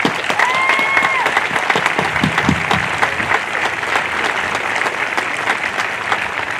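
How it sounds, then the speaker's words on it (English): Graduation audience at a Naval Nuclear Power Training Command ceremony breaks into sustained applause, steady dense clapping that holds strong across the whole stretch, with a brief tonal tone sounding early. "Another round of applause for the honor graduate."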